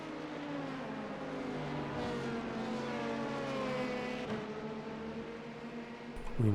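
A race car engine in an IMSA racing video game drones steadily at high revs, holding a sustained whine with slight pitch shifts. It sounds close and continuous, with no talk.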